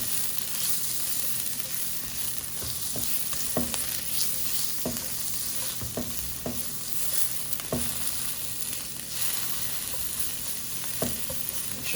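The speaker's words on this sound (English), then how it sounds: "Just saute that up. Very nice. Make it tender. That's it. That's all you're doing. And get the garlic cooked a little bit." Garlic sautés in a hot pan for Mongolian beef, a steady close sizzle broken by clacking stirs and scrapes of the utensil, with no voices.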